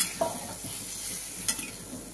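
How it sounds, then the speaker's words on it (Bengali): Tomato-based gravy for amodi fish jhal bubbles in a pan, a soft, steady hiss with a couple of louder spits and stirring taps over about two seconds. "এটা ফুটে গেলে আমি মাছটা দিয়ে দেবো। এটা ফুটছে"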